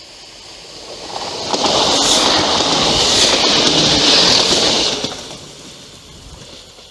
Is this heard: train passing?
yes